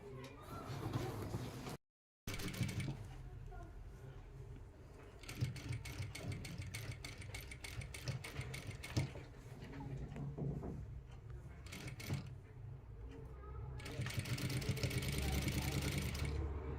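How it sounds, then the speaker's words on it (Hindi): A sewing machine stitches a readymade lehenga during a fitting alteration, its rapid mechanical chatter running in close bursts with short pauses, broken once by a brief dropout. "अब की बार हम सिलाई इधर से लगाएंगे"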